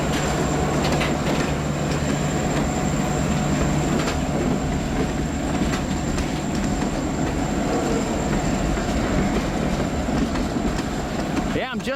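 An EJ&E SD38-2 freight train rolls slowly through Cedar Falls Junction above the Cedar River, giving a steady, continuous rumble with a constant tonal hum and faint rail clatter, sustained and near throughout, with soft voices in the background.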